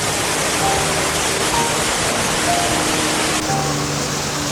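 Karagha Falls in Taita Taveta County, Kenya, roars as a constant, dense rush of falling water, loud and close with no break across the whole stretch.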